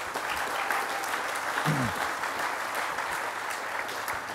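Audience applause fills a ribbon cutting ceremony at the Whyte Track & Field Center, a steady dense wash of clapping throughout with a brief voice rising faintly beneath it.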